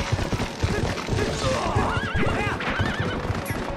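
A horse in Zelda: Twilight Princess whinnies loudly in rising and falling wavering cries over rhythmic clip-clop hoofbeats, close and prominent.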